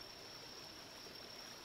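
Steady, faint flowing water from a stream in the video game The Vale: Shadow of the Crown, a continuous even wash with no talk over it.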